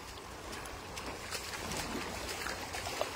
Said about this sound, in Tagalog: Ayan, lakas ng agos oh.